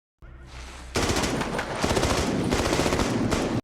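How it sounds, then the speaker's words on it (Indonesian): Sustained automatic gunfire from a film action scene, a dense rapid burst of shots after a brief rumbling lead-in, loud and continuous without talk. "kaki Danny tertembak"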